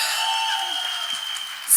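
A brief burst of crowd applause at a film trailer launch event greets an actress taking the stage, a hissing wash of clapping laid over steady sustained tones from the venue sound system.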